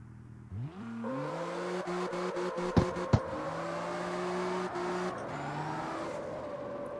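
A Mustang in the CarX Street racing game, built as a Tokyo Drift replica on sports tires, revs up and holds a steady, rising engine drone with gear-shift dips and a couple of sharp clicks, close and alone.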